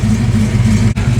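A Ford Fox Body car that had been in an accident, its engine running with a loud, close, steady low rumble, broken by a brief dropout near the end.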